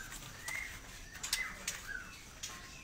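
Small songbirds call at an Indonesian bird market, a magpie-robin among them, giving short whistled notes and chirps at moderate distance over a low murmur of market background, with no talking.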